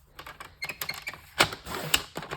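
Scrapbook paper cut on a trimmer, heard as a close series of sharp clicks and scraping snips, with two louder cutting strokes standing out near the end.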